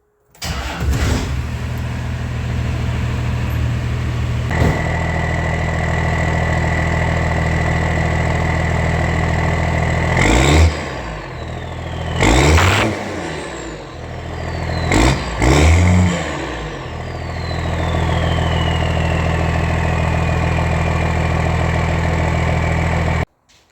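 Cummins-powered Ramcharger truck idling steadily through a newly built exhaust, with three sharp revs rising and falling in the middle before settling back to a loud, close idle.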